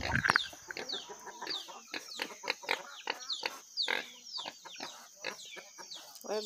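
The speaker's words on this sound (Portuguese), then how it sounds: "Esse galo pescoço pelado aqui, ó, tá fazendo um monte de franguinho rupiado do pescoço pelado." Naked neck rooster and chickens on a farm, with repeated clucks and squawks close by in an irregular, busy rhythm. No talk is heard over the birds.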